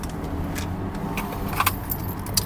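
A Nissan Navara 2.5E smart entry car key jangles inside the 2019 pickup cabin, several short metallic clinks and rattles over a low steady engine hum, close and brief, no talking.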